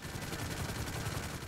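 Rapid automatic gunfire in the video game Grand Theft Auto Online, a dense continuous stream of shots that stays quiet and steady for the whole stretch.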